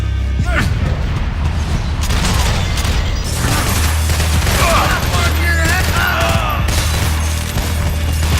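Dense gunfire and booming explosions in the Max Payne 3 video game, loud and continuous, with rapid shots layered over low rumbles and mechanical clatter, and voices shouting under the action.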